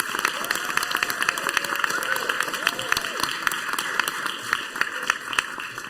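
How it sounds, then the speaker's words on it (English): Applause at a regular session of a governing body, steady scattered clapping from a modest crowd in a hall, with a voice talking over part of it. "I think a round of applause is in order for Mr."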